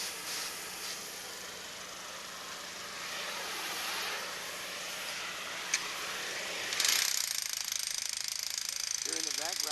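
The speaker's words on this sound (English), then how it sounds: "Here in the background you hear a jackhammer going." A jackhammer breaks up concrete during demolition of a water tower, hammering steadily in the background as a broadband rattle, rising louder near the end with some metallic clatter.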